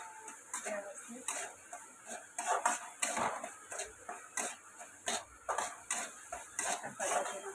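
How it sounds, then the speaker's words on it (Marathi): A spatula scrapes and taps in a steady, rhythmic run of clinks against a pan while spice masala for bitter gourd roasts, close and fairly quiet. "अशा पद्धतीनं मसाला आपला मस्त भाजायचा कारल्यासाठी"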